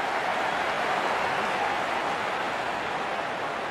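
A cricket crowd at a World Cup match between Australia and Afghanistan applauding a batsman's fifty, a steady broad wash of clapping and cheering sustained throughout, distant and even.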